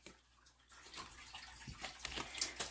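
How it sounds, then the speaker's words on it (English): Water is poured into a cup, a soft, close trickle and splash that builds gradually over a few seconds, with no voices. "pour that water"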